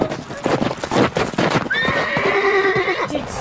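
A horse clip-clops on hooves and then lets out a loud, shrill whinny that wavers and trails off, close by, as part of a staged radio comedy with voices mixed in underneath.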